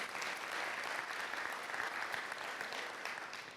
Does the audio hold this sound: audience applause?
yes